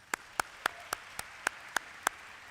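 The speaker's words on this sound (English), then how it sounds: "Please give them a round of applause." A baccalaureate ceremony audience gives a round of applause, heard here as a sparse, faint run of about nine evenly spaced single claps with quiet room tone between them.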